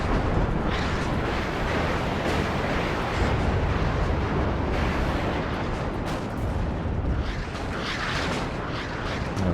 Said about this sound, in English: Oh, that's another rocket artillery piece. It's pretty close, that one.